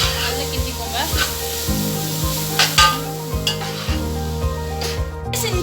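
Chicken noodles stirred in a pan over a high flame sizzle steadily while a utensil scrapes and knocks against the pan in rapid, uneven strokes, close and clear with no talking.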